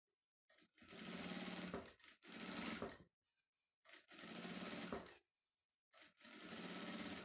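A domestic sewing machine stitches binding onto the edge of 20-gauge crystal clear plastic, running in four loud close bursts of rapid mechanical whirring separated by short quiet pauses.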